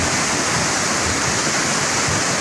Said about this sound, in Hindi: अभी इसमें पत्थरों के गड़गड़ाने की आवाज़ आ रही है